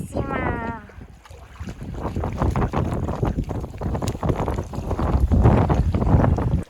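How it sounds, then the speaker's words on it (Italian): Very strong wind buffets a microphone beside a parked camper van near San Giovanni, making a loud, continuous roaring rumble with gusty surges. A voice is briefly heard at the start. "Oggi c'è un vento fortissimo"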